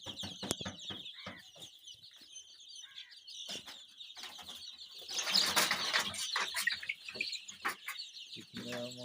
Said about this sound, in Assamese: এইখিনিয়ে আৰু মোৰ সোণালী মুৰ্গী